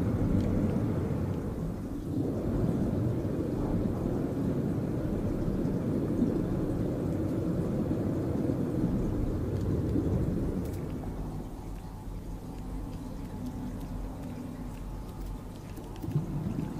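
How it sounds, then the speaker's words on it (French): A firestorm rages on a scorching planet in No Man's Sky with a dense, rumbling roar like a heavy storm, loud and constant before easing somewhat toward the end. "Oh, une tempête de feu."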